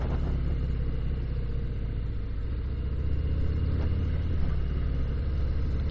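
A 2019 Harley Davidson FXDR motorcycle cruises at about 25 mph, its engine a steady low rumble close by with wind noise, continuous and without speech.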